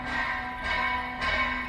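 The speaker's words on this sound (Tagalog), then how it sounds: "Saan kaya sila nagkakampana?" Church bells ring at the church in Cabusao, Camarines Sur, near the wetlands, with two bright strikes about half a second apart sounding over a steady hum.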